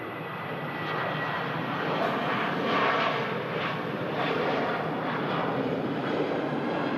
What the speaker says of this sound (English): a Scandinavian Embraer on the way out as well.